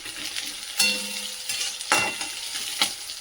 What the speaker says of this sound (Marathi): त्यानंतर टाकणार आहोत शेंगदाणे आणि मिरच्या पण दोन्ही पण आपल्याला सोबतच टाकून घ्यायचं आहे